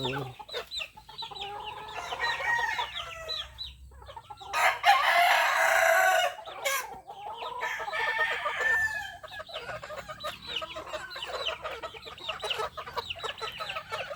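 A flock of backyard chickens clucks and chatters continuously nearby, busy overlapping calls with a louder burst in the middle, and no one talks over them.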